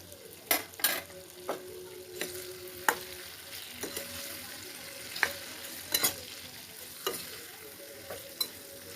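Amla pickle being stirred in a pan over a low gas flame, a quiet bubbling fry beneath repeated scraping strokes of a spoon that land about once a second, close up and with no talking.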